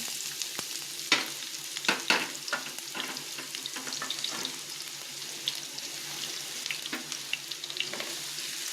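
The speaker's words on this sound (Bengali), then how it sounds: "এখন আমি এই পেঁয়াজ কুচিটা দিয়ে দিলাম" Chopped onion frying in a pan, a soft steady sizzle with scattered clicks and scrapes of stirring, close and fairly quiet with no voices.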